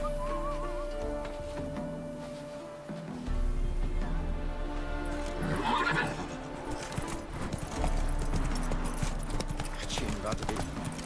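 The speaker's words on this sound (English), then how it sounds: "Run, Roach." Roach, the horse in The Witcher 3 video game, gallops with steady clip-clopping hooves and lets out a loud neigh, under game voices and music.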